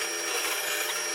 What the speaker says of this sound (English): Now I can turn it on again and drill down once more.